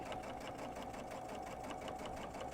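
A sewing machine runs steadily while stitching a pillow, its fast even whirring and rapid needle clatter continuing without pause, close and fairly quiet.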